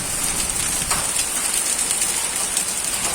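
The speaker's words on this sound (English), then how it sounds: "you can see hail stones, ओले गिर रहे हैं, ये देखो" Hailstones pelting down onto a rooftop in a summer storm, a dense steady hiss of countless small impacts with occasional sharper hits, loud and continuous with no talking.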